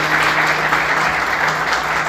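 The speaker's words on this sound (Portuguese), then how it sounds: "Você pode aplaudir Jesus bem forte" Church congregation applauding steadily and loudly throughout, a dense continuous clapping with no voices rising above it.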